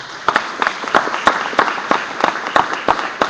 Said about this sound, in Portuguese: Pode me receber com uma salva de palmas